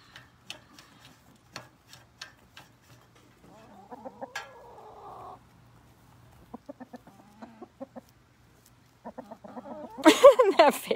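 Chickens in a backyard chicken yard, with soft clucks and short calls near and far, a fuller flurry of squawking at the end, and a faint steady ticking underneath.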